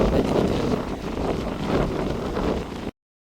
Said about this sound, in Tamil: பலமாக வீசிக்கொண்டிருக்கு என்னையை தள்ளி பின்னுக்கு விடுது காற்று